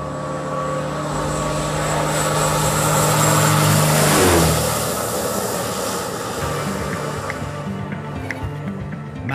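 A small aircraft comes in to land with its engine running, a loud steady drone that swells as it passes close and then eases into a lower, rougher hum.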